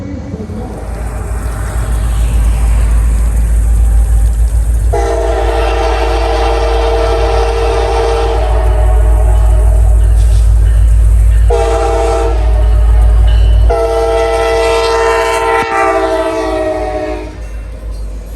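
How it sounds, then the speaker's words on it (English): A CSX commemorative executive train rolls past with a loud steady rumble, sounding its horn in several long blasts, the last ones in quick succession, before the noise fades as it moves away. "let's roll this clip of this train"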